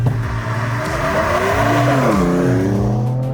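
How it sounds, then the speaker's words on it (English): A 2024 Ford Ranger Raptor in four-high with stability control off revs hard, its engine note climbing and swelling loudly as it launches, heard close from inside with no voices. "I will rev this thing and see."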